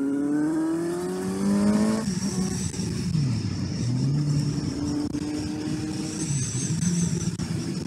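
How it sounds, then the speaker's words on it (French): A Suzuki GSR 750 motorcycle is ridden, its engine note climbing and dropping through the revs over steady wind rush, with small pops from the exhaust. It is loud and continuous. "il y a des petites pétarades au niveau de l'échappement"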